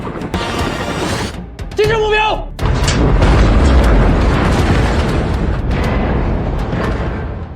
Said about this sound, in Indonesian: Kapal selam musuh pun meledak